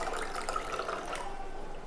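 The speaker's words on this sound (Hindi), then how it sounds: "अब यही पानी मैं इसके अंदर डालता हूँ गिलास के अंदर" Water is poured into a glass, making a steady close splashing trickle that thins slightly toward the end, with no speech over it.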